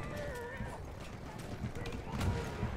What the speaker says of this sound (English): It's probably a fucking horse.